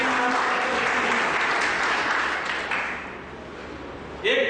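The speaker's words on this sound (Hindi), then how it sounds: "एक जोरदार ताली" An audience at a teachers' training college programme in Madhubani, Bihar claps steadily and loudly, the applause fading slightly toward the end.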